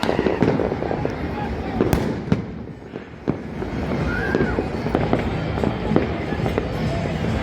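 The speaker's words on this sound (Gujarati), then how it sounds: "ચારેય બાજુ અત્યારે ફટાકડા ફોડે છે" Firecrackers burst all around on Uttarayan evening during the kite festival, with sharp scattered bangs at varying distances over a dense, steady background din.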